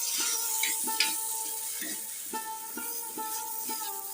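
Masala for egg tawa masala fries in a pan with a steady, close sizzle, while a spoon stirs and scrapes it in repeated regular strokes, and no one speaks.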